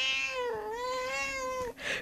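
A single long cat meow from a Minecraft cat, tonal and drawn out with a slight wavering pitch, loud and close, followed by a brief noisy rustle at the end.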